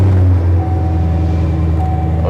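The engine of a BMW i8 sports car, a steady, loud, close hum and drone that dips slightly partway through and then runs on evenly, with no talk over it.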